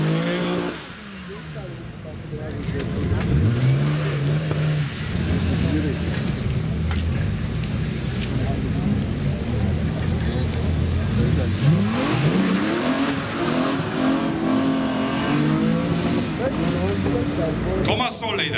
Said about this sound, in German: Porsche Carrera.